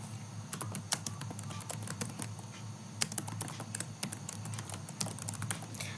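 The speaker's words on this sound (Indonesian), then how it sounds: "Kita ketikkan" Close, crisp keystrokes on a computer keyboard as a command is typed into a terminal, coming in quick irregular bursts with short pauses and a low hum underneath.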